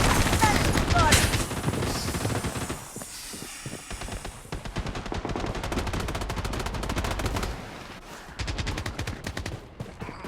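Rapid automatic gunfire from a Blood Strike battle royale match, loud and dense bursts of shots running almost continuously with brief pauses, layered over busy game sound.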